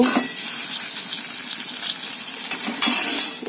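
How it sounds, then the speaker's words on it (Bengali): Eggplant frying in a pan on a home kitchen stove, a steady broadband sizzle and crackle running unbroken throughout, with a brief brighter spurt near the end. "এদিকে বেগুনটা ভেজে নিচ্ছি"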